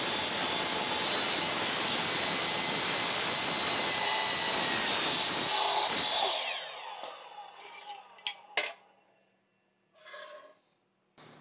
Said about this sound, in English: So this miter saw doesn't do a great job cutting wood, so I'm basically just using it for aluminum.